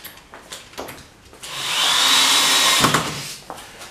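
A power drill drives a screw into a board rack mount with a loud, sustained whir lasting about a second and a half, then slows and stops, with a few handling knocks before and after.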